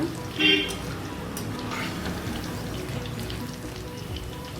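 Ragi and moringa leaf pakoda frying in hot oil gives a steady, close crackling sizzle with a brief louder splash near the start; no one speaks.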